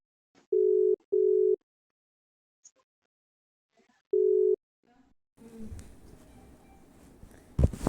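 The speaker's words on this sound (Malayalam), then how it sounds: "ഞാൻ എമ്മാൻ്റെ ഫോണിൽ വിളിച്ചോക്കട്ടെ. നെറ്റിൻ്റെ പ്രശ്നമാണ്" A mobile phone call rings out with steady ringback tones: two beeps close together, a gap, then a third beep. Faint rustling and handling noise follow.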